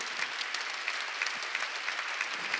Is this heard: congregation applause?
yes